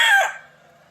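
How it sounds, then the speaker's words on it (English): A rooster's crow cuts off after a loud, bright burst, trailing into quieter fowl sounds; close and brief, with no talking. "Chickens are out scratching around."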